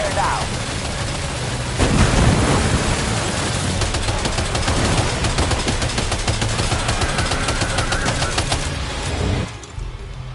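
Rapid bursts of automatic gunfire rattle through a firefight in the video game Death Stranding 2, dense and loud over a steady background roar, easing off near the end.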